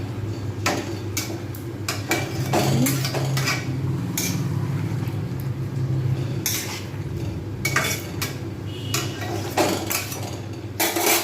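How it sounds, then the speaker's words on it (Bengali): A spoon stirs pumpkin and potato curry with ghee in a pan, making steady, close scraping and clinking sounds against the metal with a low kitchen hum underneath. "শেষে আমি এতে ঘি দিয়ে দেবো ঘি দিয়ে ভালোভাবে নেড়ে দিলাম"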